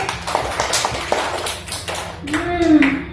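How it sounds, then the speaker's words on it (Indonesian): Classroom applause for a student named Sakif, a short patter of children's clapping at moderate level with a teacher's voice and kids' chatter over it. "tepuk tangan untuk Sakif"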